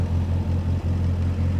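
A 1959 Morgan Plus 4 drop head coupe engine idles steadily after starting, a close, continuous low rumble with an even pulse and no talk over it.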